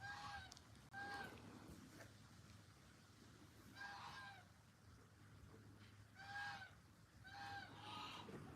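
Emus call at a ranch in Texas, giving several short bursts of low, honking, drumming-like calls in groups over steady outdoor background noise.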